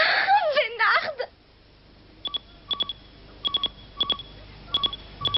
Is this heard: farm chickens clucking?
no